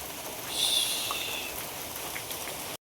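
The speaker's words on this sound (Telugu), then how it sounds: "మళ్ళీ వర్షం స్టార్ట్ అయింది" Steady rain falls outdoors, an even, continuous hiss of drops that fills the whole stretch at moderate volume with no voices.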